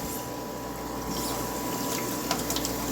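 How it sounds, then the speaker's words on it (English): Warm tap water runs steadily over noodles in a regular kitchen strainer, a continuous close splashing hiss with no talking. "And then I just rinse them really good with some warm water."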